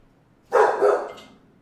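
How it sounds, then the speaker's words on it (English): A dog gives a single short bark, two quick pulses blended together, moderately close against a quiet room background. "Sorry about the dog barking."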